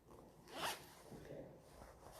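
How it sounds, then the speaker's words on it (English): A zipper on a woven-fabric bag is drawn in one quick pass, a brief bright rasp close by in an otherwise quiet room. "And then it has a zip."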